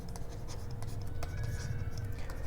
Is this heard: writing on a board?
yes